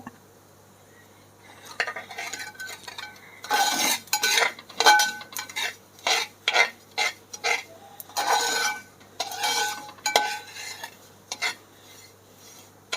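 Spatula scraping and clinking through roasted puttu flour mixed with cumin in a pan while making avalose podi, the irregular stirring strokes close and clear, with no talk.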